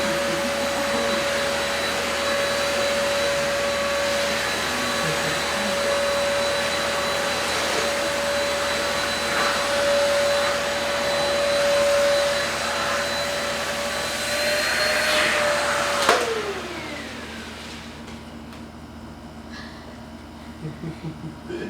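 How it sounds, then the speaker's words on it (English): A Deerma vacuum cleaner sucks up pet fur through its tube, a loud steady whining roar with a high tone that drops as the motor winds down near the end, close up and without talking. "if there's actually going to be fur that is being sucked in this tube right here"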